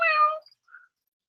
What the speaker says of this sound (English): if you guys can hear my cat going meow